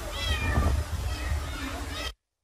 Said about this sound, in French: c'est le miaulement du chat qui demande